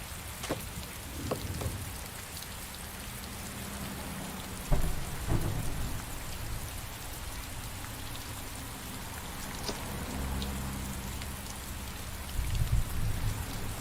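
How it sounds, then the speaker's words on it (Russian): Steady heavy rain pours throughout in the video game Heavy Rain, with a few louder rumbles and gusts swelling near the middle and end, and no voices. "Идет дождь."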